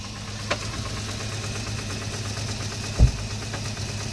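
A 2004 Jeep Liberty Renegade engine idles with a steady hum after a cold start, and two distinct knocks punctuate it, a light tap early and a heavier thud near the three-second mark.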